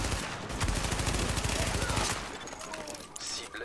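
Enemy gunfire in the video game The Division rattles in dense rapid bursts through the first two seconds, then thins out amid game ambience, with a player talking over it.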